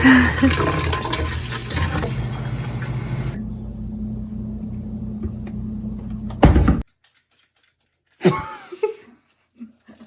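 Liquid pours steadily into a bottle while mixing half vinegar and half water with dish soap for a homemade cleaner, a loud continuous gush that stops abruptly, followed by brief clunks and a short splash.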